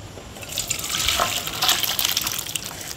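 Cooked country chicken curry with plenty of thin gravy is poured from a pot, making a close, wet splashing gush that swells and fades over a few seconds.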